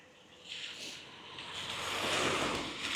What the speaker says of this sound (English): I hope you can hear me because it's really windy.